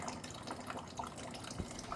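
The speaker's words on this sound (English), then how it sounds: "the drain plug right here, or the drain petcock, draining down in there" Water trickles steadily from the radiator drain petcock of a Kubota-powered Willys MB jeep, a continuous low splashing with small drips standing out, fairly quiet and without talk.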